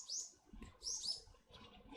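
A small bird gives two quick, faint high chirps about a second apart, with faint low rustling between the calls.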